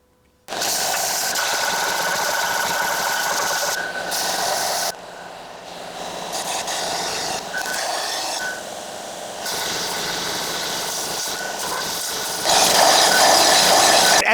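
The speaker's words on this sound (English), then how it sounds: "I'm using the 4-inch belt sander in a variety of ways to contour the various parts of the Baton Sling" A 4-inch belt sander contours a primitive stone-throwing baton sling, giving a loud continuous grinding roar with abrasive rasping that shifts in tone as the piece is pressed and repositioned against the belt, with brief dips in level.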